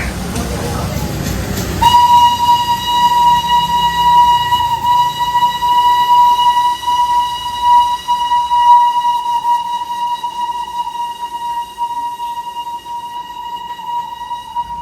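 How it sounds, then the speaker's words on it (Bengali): A toy train passes close by, sounding a loud, steady horn blast that holds for about thirteen seconds over the rumble of its running. Voices can be heard faintly in the background. "এই দেখুন টয় ট্রেন যাচ্ছে"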